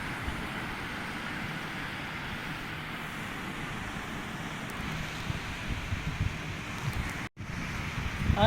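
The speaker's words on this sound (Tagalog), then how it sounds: "Pakinggan natin yung beach. Ay yung tubig." Sea waves and wind at a beach in the Philippines make a steady, broad rushing wash with gusty rumble against the microphone, continuous and fairly loud, with a brief dropout near the end and no talking.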